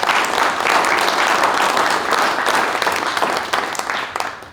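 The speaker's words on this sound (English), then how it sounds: "let's give this panel a huge round of applause" A large audience applauds a sustainability panel discussion with loud, sustained clapping that holds steady for several seconds before slowly starting to thin out.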